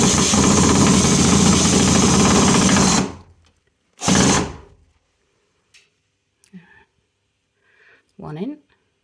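A power screwdriver drives a screw into plasterboard with a loud, steady whir for about three seconds, then a short second burst, followed by faint handling clicks and a brief low voice.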